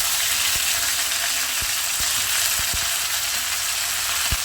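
Steady loud sizzling of ginger, chilli and garlic paste frying in hot oil, with occasional sharp clicks and taps from stirring.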